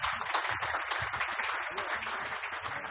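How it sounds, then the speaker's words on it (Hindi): Audience applause at a Hindi poetry recital, a steady faint patter of many hands clapping continuously throughout, distant and soft, without speech. "और जरा देर तक तालियां बजाइए"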